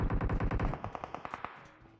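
Rapid automatic gunfire in the mobile battle royale game PUBG Mobile, a fast burst of shots that thins into spaced single cracks and fades within two seconds.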